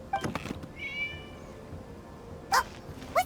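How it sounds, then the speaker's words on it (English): Cat in the video game Genshin Impact gives a couple of short, fairly clear meows, one early and two more near the end, over a quiet game backdrop. "It was just a cat."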